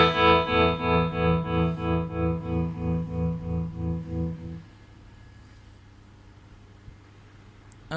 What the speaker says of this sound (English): Back to the other tremolo to hear it at that speed,